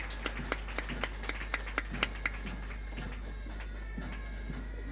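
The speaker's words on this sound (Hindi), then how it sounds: "एक बार जोरदार तालियां इस शानदार आगाज के लिए" Sparse, evenly spaced claps ring out at a U.P. Police passing out parade in Lucknow, single sharp hits in a slow rhythm over a low steady hum, thinning toward the end.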